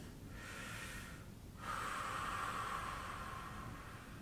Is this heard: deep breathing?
yes